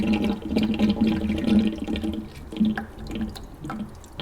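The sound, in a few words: water draining from Rinnai tankless water heater during flush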